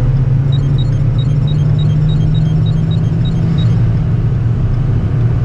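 A truck with a 6.7L Powerstroke diesel overtakes another vehicle on the road, giving a steady, loud in-cabin engine drone and road rumble that holds evenly throughout without any clear change in pitch.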